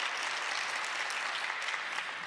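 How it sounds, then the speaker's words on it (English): Applause from the audience at an emergency summit on Gaza, a dense, steady wash of many hands clapping together, loud and sustained throughout with no pauses. "Let's go ahead and give them a big round of applause."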